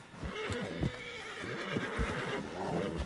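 A horse whinnies and snorts amid clip-clopping hooves in Red Dead Redemption 2, the calls rising over a steady bed of game ambience with a few sharp hoof strikes.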